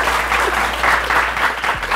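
Studio audience applause, steady and fairly loud clapping from a small crowd sustained for two seconds without letting up.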